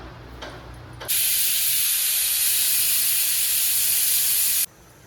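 A pressure cooker holding lentils with drumstick leaves lets out one loud, steady steam hiss from its whistle that lasts about three and a half seconds and then cuts off abruptly.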